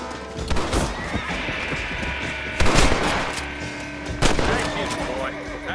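Gunshots in the video game Red Dead Redemption, two sharp loud cracks ringing out over horses neighing and hooves clopping nearby.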